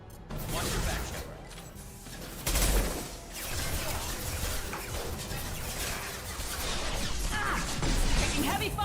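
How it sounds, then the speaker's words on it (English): Heavy gunfire in a Mass Effect 2 firefight, a dense continuous barrage with crashing impacts and a loud thump near the start, with voices talking over the combat. "Taking heavy fire!"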